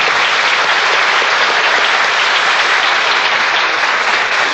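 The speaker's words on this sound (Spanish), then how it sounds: "Un aplauso para el artista" Loud, sustained applause from an audience honoring an artist in Guadalajara, a dense wash of clapping that stays steady for the whole few seconds with no voices on top.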